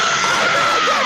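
A person screams loudly and continuously into a microphone, one sustained, strained, piercing high cry held close and harsh throughout the brief moment.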